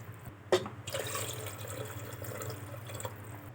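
Water is poured into a pot for cooking basmati rice for mint rice, a sharp splash followed by a steady trickling stream close by in a quiet kitchen.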